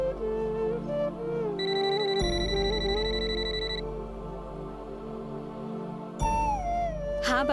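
A telephone ringtone for an incoming call plays a looping electronic melody, fairly loud, over a soft musical background with no speech.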